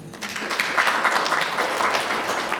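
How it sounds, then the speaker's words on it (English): An audience claps steadily at a DDP local government gathering, a dense, continuous round of applause at moderate loudness with no voices over it. "A round of applause once more."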